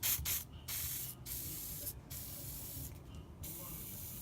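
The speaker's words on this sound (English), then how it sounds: "but I'm still gonna spray all of them" Aerosol lubricant sprayed onto the lug nuts of an El Camino's wheel, several short hissing bursts with brief gaps between them, close and fairly loud, no talking.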